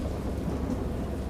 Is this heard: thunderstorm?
yes